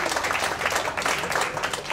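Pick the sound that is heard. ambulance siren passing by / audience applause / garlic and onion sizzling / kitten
audience applause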